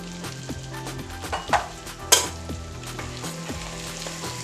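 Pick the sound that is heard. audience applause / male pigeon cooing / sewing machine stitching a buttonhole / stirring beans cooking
stirring beans cooking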